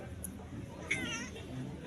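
A cat gives a single short meow, close and fairly faint, as a person's voice talks around it.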